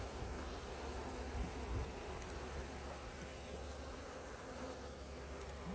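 Honeybees crowd a frame lifted from a hive during an inspection and buzz in a dense, steady drone. The sound stays close and constant, with no voices.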